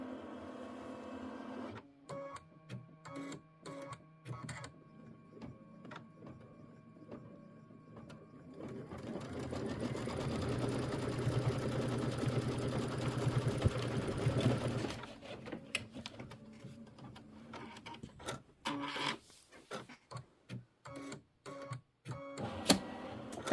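A Kimberbell quilting project on a sewing machine running a quilting stitch, steady mechanical whirring with rhythmic needle ticking, starting and stopping in short bursts before a long continuous run, then more stop-start stitching.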